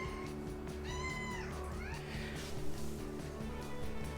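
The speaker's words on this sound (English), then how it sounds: "It's not even my cat." A cat meows a few times in a quiet home, with rising and falling drawn-out calls over a steady low hum.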